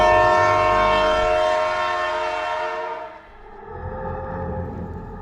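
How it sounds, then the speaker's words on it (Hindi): A train rushes closer with a loud, sustained horn blast over heavy rumbling, the horn cutting off midway as the rolling rumble carries on, used as a sound effect. "ट्रेन बहुत तेजी से उसकी तरफ बढ़े जा रही थी।"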